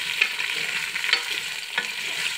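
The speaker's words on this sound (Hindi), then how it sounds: "आलू को ऑयल में अच्छी तरीके से मिक्स कर लें।" Potatoes stir and fry in hot oil in a pan for aloo matar, a steady close sizzle with a few scraping spoon strokes and no talk.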